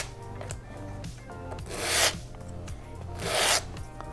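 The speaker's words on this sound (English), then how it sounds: "we're just going to kind of just scrape the corners, and that gets them down nice and smooth" Corners of a plastic fin on an Estes Viking model rocket being scraped smooth, two slow rasping strokes that swell and cut off, with faint tonal background music underneath.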